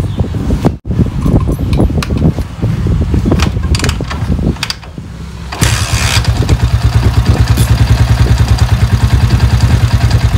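A Honda TMX 155 motorcycle with its original engine block, heard close and loud: cranking and mechanical clatter first, then the engine catches around midway and settles into a steady, throbbing idle.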